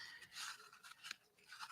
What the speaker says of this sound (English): These are my not great scissors